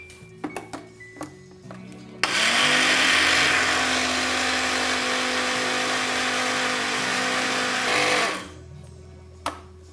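A blender whirs loudly and steadily for about six seconds, grinding oats and bananas into pancake batter, then winds down, with a few clicks and knocks before and after.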